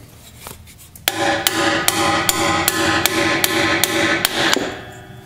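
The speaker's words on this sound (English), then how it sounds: "It sure is nice having the right diameter disc driving a bearing or seal with." A driver disc is hammered onto a bearing or seal for a Ford 8.8 differential, making about ten sharp metallic strikes in a steady rhythm, close and loud, with a ringing tone between blows.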